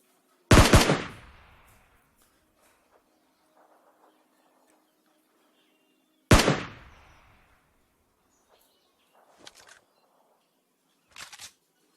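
Two sharp, loud in-game gunshots from PUBG Lite with decaying echoes about six seconds apart, followed by a few fainter bursts of gunfire later on.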